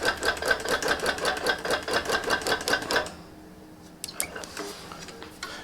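A quilting machine stitches along the edge of a large quilt with rapid, steady mechanical pulses for about three seconds, then stops, leaving a quieter stretch with a few faint clicks and handling noises.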